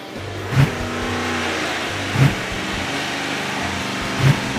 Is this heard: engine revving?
yes